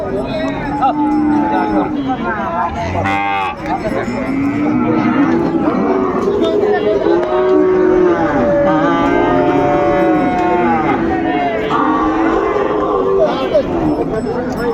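Sahiwal bulls and other cattle moo repeatedly at a busy livestock market, with long, loud lowing calls rising over constant crowd chatter and people talking nearby.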